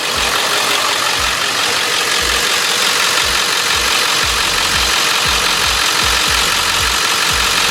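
Ford F-350 with a 7.3 turbo diesel idling up close, a loud steady rumble with a rhythmic low knocking pulse and constant hiss, no voices.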